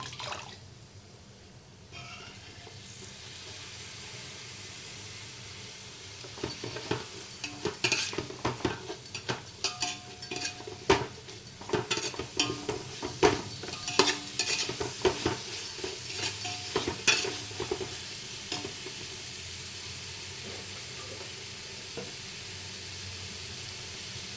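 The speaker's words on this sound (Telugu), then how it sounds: "చూడండి పుదీనా మంచిగా ఫ్రై అవ్వాలి ఎగ్స్ కూడా వేసుకున్నాను ఎగ్స్ కూడా ఫ్రై అవ్వాలి" Mint and eggs fry in a pan for egg biryani. A low sizzle runs underneath while a spoon scrapes and clinks against the pan in busy, uneven bursts through the middle. The stirring then eases off, and no voices are heard.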